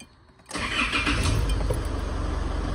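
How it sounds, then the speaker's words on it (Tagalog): A car engine cranks and catches after a short quiet moment, then settles into a steady idle while the brake booster is being tested during a brake master cylinder and booster replacement. "tapos start nyo makina"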